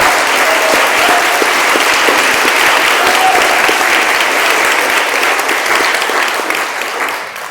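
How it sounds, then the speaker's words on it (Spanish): A church congregation applauds loudly and steadily for several seconds, a dense wash of clapping that fades slightly at the end. "Dale ese aplauso fuerte al Rey de Reyes."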